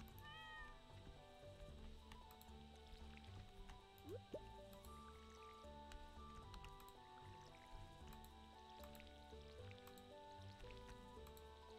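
A cat meows in the farming video game Stardew Valley, with a short meow rising over soft, looping game music and light watery dripping sounds from watering, all quiet and steady.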